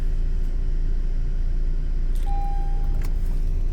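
A 2013 Honda CR-V 2.2 diesel engine starts and runs with a steady low rumble, and a thin electronic beep sounds for about a second partway through.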